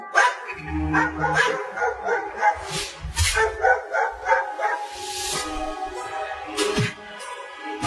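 Several dogs bark in front of a wooden house, with repeated loud, close barks mixed with yips and whimpers in an uneven, busy rhythm throughout.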